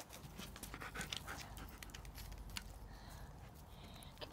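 A dog panting rapidly and rhythmically close by, quick breathy puffs repeating throughout with faint rustling in the background.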